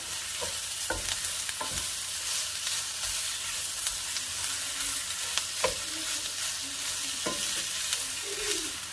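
Sliced sausage sizzles gently in a pan, a continuous soft frying hiss with occasional stirring scrapes and taps from a utensil, moderately quiet throughout.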